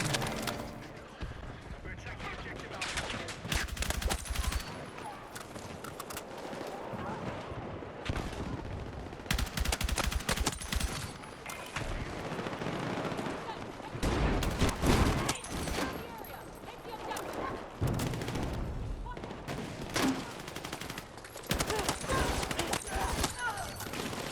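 An M277 rifle, an MCX Spear style weapon in the shooter Battlefield 6, fires in rapid bursts and sustained automatic strings, loud and close, with short pauses between volleys and other gunfire mixed in.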